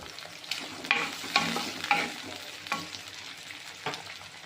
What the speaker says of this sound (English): Again saute well until the shallot changes to golden brown.